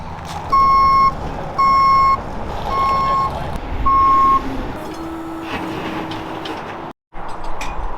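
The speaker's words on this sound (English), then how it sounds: "Let's grab the tow truck, Hillbilly, and let's get this thing loaded." A tow truck backs up with four evenly spaced reversing beeps over a low diesel engine rumble, followed by the engine working on alone.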